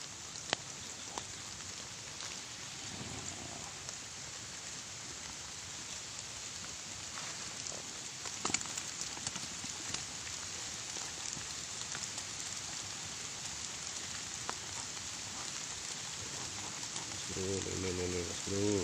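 Steady rain falling outdoors during catfish fishing, a continuous soft hiss with scattered drop ticks, a few faint voices and a low hum near the end.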